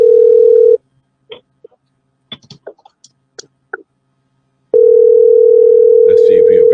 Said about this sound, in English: see if I can get Yomo on the phone